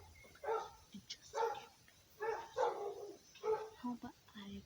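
A dog barks repeatedly outdoors in a series of separate sharp barks, moderately distant and fairly faint, with a few whimpering yips at the end.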